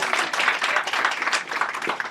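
Dense applause from an audience at a grand-opening ribbon cutting, many hands clapping steadily and fairly loudly for a speaker, with no pause throughout.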